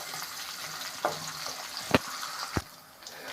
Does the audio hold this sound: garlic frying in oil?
yes